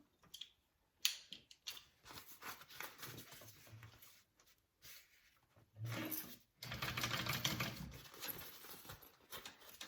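A sewing machine top stitches a seam on a Mini Swell sewing project, running in short bursts and then one longer steady run, close and fairly quiet, with no talking.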